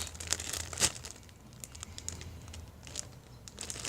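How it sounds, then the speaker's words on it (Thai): Soft crinkling and squishing of plastic as a squishy toy is squeezed inside a plastic bag, with a few sharper crackles, quiet and close. "ทำไมชอบบีบ สกูชี่ในถุงมากกว่า"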